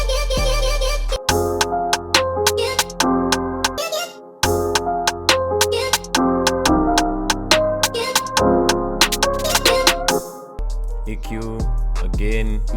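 A chopped vocal sample sings short melodic phrases over a UK drill beat with sliding bass and crisp hi-hat rolls, cutting out briefly a couple of times.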